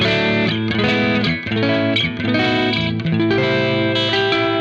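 An overdriven electric guitar on the middle pickup plays a short riff of sustained notes and chords, loud and continuous with a slightly brighter tone.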